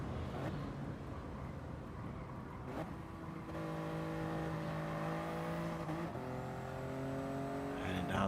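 Touring cars in a sim racing BTCC league round at Goodwood Circuit, engines droning and whining as cars pass and shift gears, a commentator talking over the steady racing noise.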